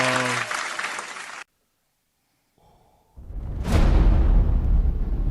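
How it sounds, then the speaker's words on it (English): A round of applause for a group of women on a live show, loud and close, bursting in after a brief silence and building into a dense, swelling roar of clapping. "Round of applause for these women."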